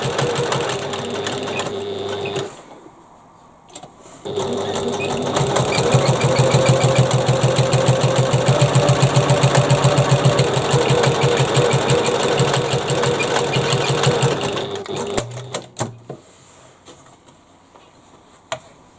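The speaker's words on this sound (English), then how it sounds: "Stitching over the gap," A sewing machine runs in a long, steady rhythmic burst while stitching a gap closed on a bag, with short bursts and pauses before and after, close and clear with no talk.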